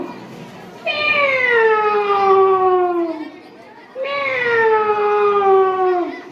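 At a school talent competition, a voice imitates a cat with two long, drawn-out meows, each sliding downward in pitch, separated by a short pause.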